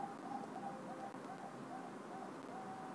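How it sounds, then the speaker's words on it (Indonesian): Zebra dove cooing softly from beside a bedroom, a faint repeated tonal call at a steady rhythm, set back in the distance under a constant hiss of ambient background noise. "Ya ada itu burung perkutut tuh."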